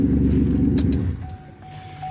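A 2006 Chevy Impala LT 3.9-litre with a broken exhaust idles with a loud, rough, rumbling exhaust drone that eases off partway through, leaving a quieter rumble and a faint steady whine.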